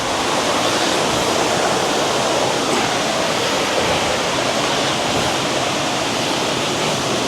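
Steady rushing water from a Blue Lagoon stream along the Balabag Waterfall trail in the Philippines, a loud continuous broadband roar with no pauses and no voices.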